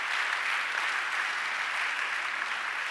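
A church congregation applauds during a Sunday worship service, a steady, dense wash of clapping from many hands throughout, fairly close and even, with no one speaking over it.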